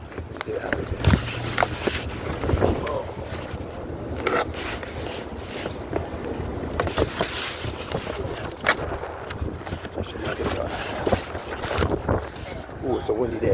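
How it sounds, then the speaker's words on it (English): Wind blowing outdoors on a blustery day, a steady rough buffeting rush that roars and rubs across the microphone for the whole stretch, with faint sounds in the background. "it's a windy day"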